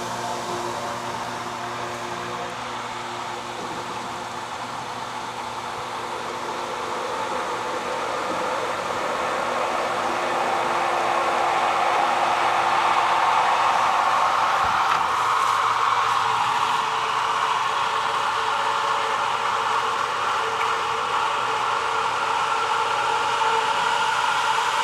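A Harbor Freight water pump runs after priming, a steady broadband whir that grows louder partway through and holds constant, close by.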